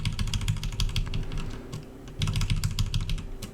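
Computer keyboard keys spam-clicked rapidly during an NES Ninja Gaiden run, a dense, steady clatter of close, crisp keystrokes with no talking.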